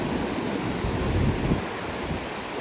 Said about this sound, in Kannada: ನೀರಿನ ಶಬ್ದ ಅಂದರೆ ಅಲೆಗಳ ಶಬ್ದ